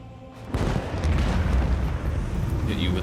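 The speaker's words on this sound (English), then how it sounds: "Unleash the storm of macro cannons." Macro cannons firing in the Warhammer 40,000: Rogue Trader video game: after a brief quiet start, a heavy rolling barrage of deep booms erupts and rumbles on continuously.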